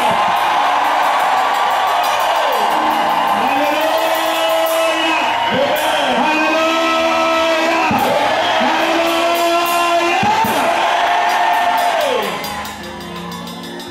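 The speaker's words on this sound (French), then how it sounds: "Est-ce que tu peux pousser des cris de joie au Seigneur?" A church congregation at a New Year's Eve crossing-night service shouts for joy. Loud, continuous whoops, yells and cheering voices rise and fall in overlapping waves, then ease slightly near the end.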